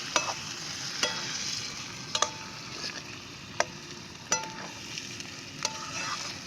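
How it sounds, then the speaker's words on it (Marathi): Tilapia fish curry ingredients sautéing in a pan, a steady sizzle and fry with scattered sharp clicks and scrapes of a spoon stirring, close and moderately loud with no talking. "मी थोडासा परतून घेणार आहे आता"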